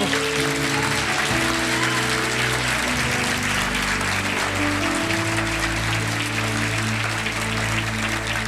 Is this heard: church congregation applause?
yes